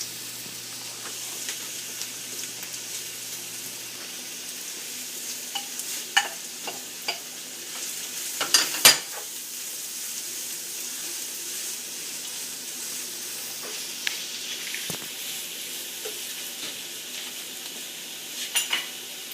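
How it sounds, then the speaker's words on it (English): Diced onions sizzle steadily in a pot for French onion soup, with scattered scraping and clinking as they are stirred, close and fairly quiet. "I'm going to add all my onions that I diced in here."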